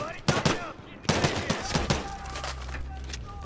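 Rapid bursts of gunfire from a Battlefield 3 beta match, sharp cracks clustered in quick volleys over a steady battlefield rumble, with a voice talking faintly in places.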